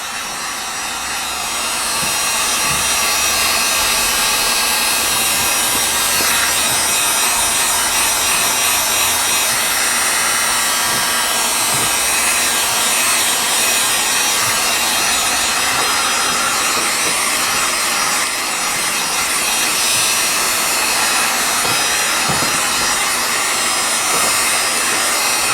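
A hair dryer blows continuously and loud at close range, drying leather repair dye on a worn leather couch, with a steady whoosh and faint rubbing under it.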